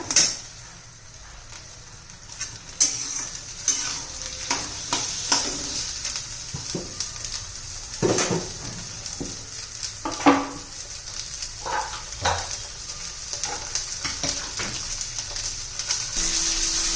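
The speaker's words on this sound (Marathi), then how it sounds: "थोडंसं तेल घालून मी परतून घेते" Fresh green peas sautéing in a little oil for a quick usal, a close hiss and sizzle broken by spatula scrapes and knocks against the pan at uneven intervals, with a thin high whine running underneath.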